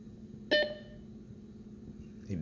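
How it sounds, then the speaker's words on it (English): An external SCSI hard drive enclosure gives a short, faint electronic beep, a brief double chirp in a quiet room with a low hum. "It beeped."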